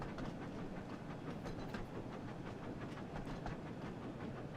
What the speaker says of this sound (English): I don't like this continuously buffing of the steam coming out of the train